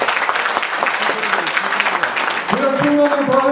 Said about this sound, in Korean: 이건 박수 드립니다.